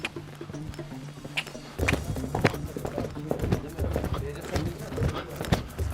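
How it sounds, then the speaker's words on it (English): Hooves of a horse trotting clip-clop in a quick, steady rhythm close by, with a low hum in the background and a person talking over it. "This horse seems fine. Just a trot now."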